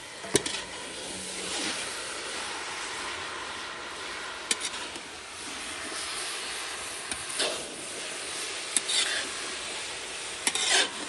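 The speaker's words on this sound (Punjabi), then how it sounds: "ਚੰਗੀ ਤਰ੍ਹਾਂ ਕੋਇਆ ਇਹਦੇ ਵਿੱਚ ਮਿਕਸ ਕਰਨਾ ਹੈ" Khoya is worked into gajrela, a carrot halwa, in a pan. Continuous close stirring and scraping runs under a soft sizzle, with a few sharper clinks of the spoon against the pan.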